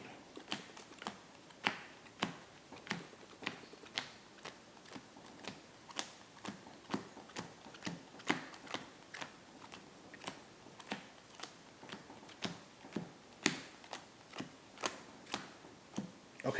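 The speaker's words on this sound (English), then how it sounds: "Let's do my power shuffle one more time." A small deck of about forty playing cards is shuffled repeatedly, producing a steady run of crisp riffling snaps and taps, quiet and close with no voices.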